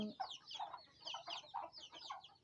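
Several chickens clucking at a rural Thai home with a garden yard, a busy overlapping run of short calls, faint and a little distant, with no talk.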